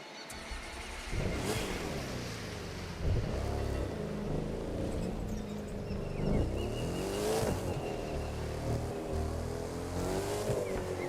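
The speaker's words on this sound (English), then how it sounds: "So let's get one of these cars out. Drive around a little bit." Car driving in The Crew 2 racing game, a steady engine drone that rises and falls with revving and gear changes, close and continuous throughout with brief tire noise.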